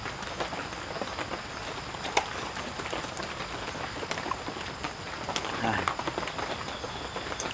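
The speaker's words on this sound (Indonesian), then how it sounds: "Mantep ya, hujan-hujan seperti ini, rintik-rintik" Light drizzling rain patters steadily outdoors at a campsite, a soft continuous hiss with scattered faint drop ticks at moderate distance, with no other prominent sounds.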